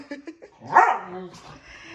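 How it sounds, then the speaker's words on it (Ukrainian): A dog gives a few short yips, then a louder bark and a whining, drawn-out vocalisation, close by and with no other sound around it. "такі дві собаки в мене бачите?"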